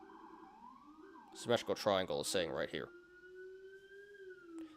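An emergency vehicle siren wails outside, its steady rising and falling tone sounding faint and distant beneath someone talking close by.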